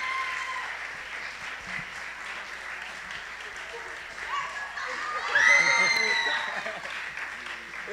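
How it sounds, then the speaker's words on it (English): Sustained audience applause for musicians at a high school winter concert fills the clip, swelling louder midway as cheers and a whistle rise over the clapping. "give it another round of applause for all these amazing musicians"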